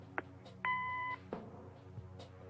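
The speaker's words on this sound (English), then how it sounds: "Leave a message after the beep." Answering machine beep in the video game Kathy Rain: one clear, steady electronic tone of about half a second, preceded by a short click and followed by faint room noise.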